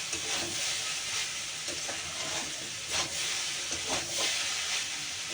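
Pasta being stirred as it fries in a pan, a steady loud sizzle and hiss with soft scraping strokes of the spoon recurring throughout, no voices.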